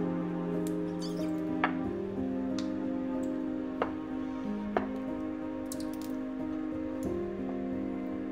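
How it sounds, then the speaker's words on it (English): Baguette dough for banh mi is rolled thin with an oiled rolling pin, giving off a handful of small, sharp pops as trapped air escapes. The scattered faint clicks sit under steady background music. "You should hear popping noises from the air being pushed out."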